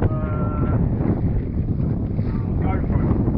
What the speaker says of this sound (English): It's hard making videos and sailing a mirror dinghy.